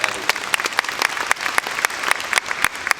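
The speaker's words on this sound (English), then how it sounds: "give the man a massive round of applause for that" A fan Q&A audience claps continuously, a dense, even patter of many hands with individual sharp claps standing out, fairly close and sustained.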